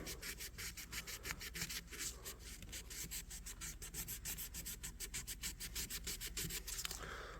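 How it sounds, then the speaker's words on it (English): A Boker USA electrician's pocket knife is rubbed with fine sandpaper in quick, even back-and-forth strokes, a rhythmic scratchy rasp repeating about four times a second, close but quiet, with no talk. "And then I can go to an even finer sandpaper"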